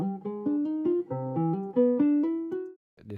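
A classical guitar plays a short plucked melodic phrase of distinct notes in a steady rhythm with added studio effects and no final mastering, close and clear, ending in a brief pause and a few soft final notes.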